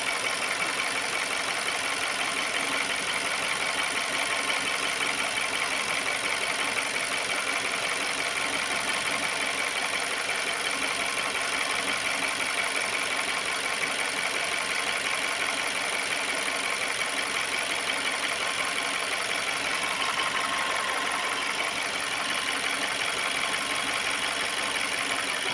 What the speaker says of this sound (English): The radiator fan has kicked in.